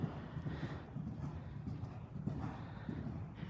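A horse canters in an equine arena, its hoofbeats thudding in a clear repeating rhythm, close and fairly loud, with a soft neigh-like tone and faint surrounding movement.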